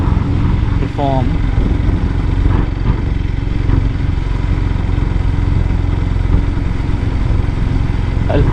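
Yamaha FZ-X motorcycle climbing a small hill, its engine droning steadily and loud throughout with road and wind rumble, no clear speech over it.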